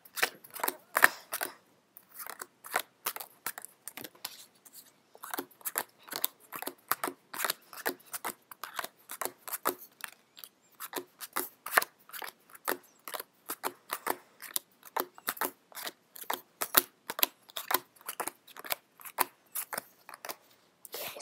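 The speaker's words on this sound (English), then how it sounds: "I'm going to deal all these cards out into 3 piles" Playing cards are dealt one by one into three piles on a table, a steady run of crisp snaps and slaps repeating for over twenty seconds, close and fairly quiet with no talking.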